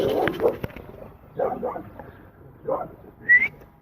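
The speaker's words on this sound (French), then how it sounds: "ça y est le chien" A dog gives several short, moderately loud barks and yips spaced a second or so apart, ending in a high, thin whine at the close.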